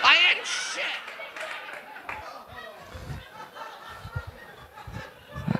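Scattered, modest applause mixed with snickers and chuckles from a stand-up comedy crowd, with chatter and talk running through it.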